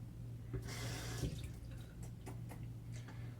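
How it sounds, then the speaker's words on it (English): Tap water runs in a short, splashy burst as soap is rinsed off fingers at a bathroom sink while shaving with a Shavette razor, followed by a few scattered drips over a low steady hum. "Rinsing off the soap off my fingers."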